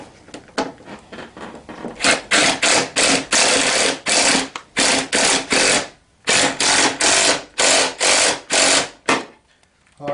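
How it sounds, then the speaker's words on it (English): Hand ratchet tightening a nut on the steering column of a TaoTao CY50B scooter during assembly, with steady runs of close, crisp clicking strokes in bursts and brief pauses between them. "And tighten this down."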